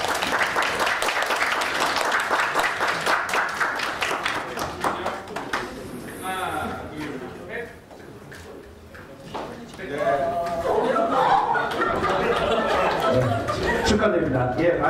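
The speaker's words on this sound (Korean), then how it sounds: "예, 박수 부탁드립니다" Hackathon awards crowd applauding in a dense clatter of hands, dipping midway with chatter and laughter before the clapping swells again near the end.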